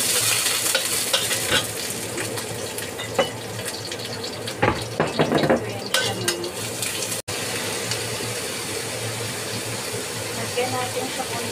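Black fungus, bean curd, tofu and chicken sizzle in a pan while being stirred, a loud continuous frying hiss with clattering spatula strokes near the middle and no talking.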